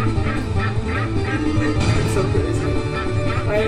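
Busy video game soundscape from Legend of the Brofist with repeated quacking ducks over music and effects, a dense, loud mix of bursts throughout.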